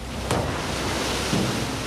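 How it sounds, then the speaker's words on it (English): Rough sea water rushes and washes over the deck of a dive boat in steady broadband noise with wind buffeting, two brief louder splashes standing out, and no voices. "There's far too much water coming over deck, so we'll turn around and we'll go back to the harbour."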